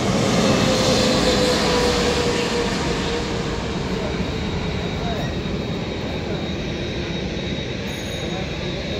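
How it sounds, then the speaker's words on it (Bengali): A Biman Bangladesh airliner lands low overhead near Bauniya Battala, a loud, steady broadband engine roar filling the whole stretch and easing slightly toward the end, with some voices underneath. "বাংলাদেশ বিমানের একটি বিমান এইমাত্র ল্যান্ড করলো"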